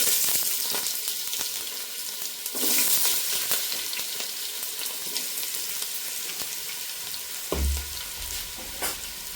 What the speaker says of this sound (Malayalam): വെളിച്ചെണ്ണ ഒഴിച്ചേക്കുന്നത്. അതിലേക്ക് നമുക്ക് കുറച്ച് സവോള ചെറുതായിട്ടല്ല നീളത്തിന് അരിഞ്ഞിട്ട് കനം കുറച്ച് അരിഞ്ഞത് അത് നമുക്ക് ഇട്ട് മൂപ്പിച്ചെടുക്കാം